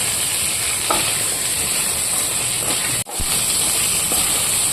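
Ginger and shallots fry steadily in a pan, a loud, continuous sizzle with faint stirring scrapes and a brief dip partway through.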